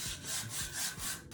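Rhythmic abrasive rubbing strokes of sanding mesh, about five back-and-forth passes, a steady close scratchy hiss with no voices.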